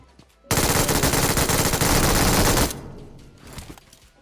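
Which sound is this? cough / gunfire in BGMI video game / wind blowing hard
gunfire in BGMI video game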